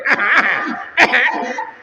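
Elderly worshippers in a mosque congregation cough during a long prostration in prayer: two short, fairly loud coughing bursts about a second apart, with faint murmuring between them.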